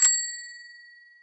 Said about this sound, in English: You knew that bicycle bell was coming.